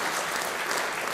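Audience applause for a big band at a concert with a singer, a steady dense wash of clapping filling the whole moment, fairly loud and without talk.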